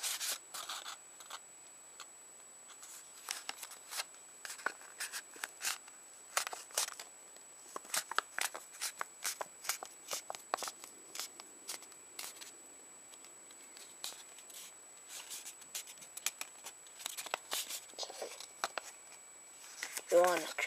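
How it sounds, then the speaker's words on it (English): Paper being folded and creased into an origami bird base, with repeated soft rubbing, scraping and crinkling strokes in uneven bursts, close and fairly quiet, with occasional light speech. "You want to crease it well."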